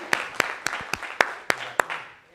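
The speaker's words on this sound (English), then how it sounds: "Get a big round of applause for them." A small audience at a live business presentation gives a sparse round of applause, about seven separate sharp claps spaced evenly and fading quickly, with no voices.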